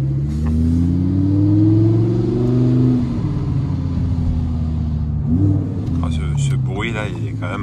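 An Audi R8 fitted with an FI Exhaust system revs up loudly and nearby. Its deep engine note rises and falls, then surges again, while a person speaks over it near the end.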